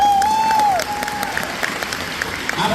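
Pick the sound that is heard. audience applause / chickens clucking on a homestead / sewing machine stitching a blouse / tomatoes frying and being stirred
audience applause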